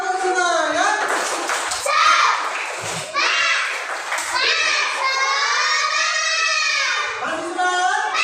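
A primary school class doing a rhythmic spirit clap during a religious studies lesson: children clap in a patterned beat while chanting together loudly, with the teacher's voice mixed in.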